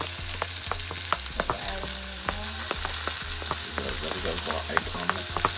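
Onion and pepper searing in a pan before scallion and eggs go in for an omelette, a steady close sizzle with frequent sharp clicks and scrapes of a utensil stirring, no talk.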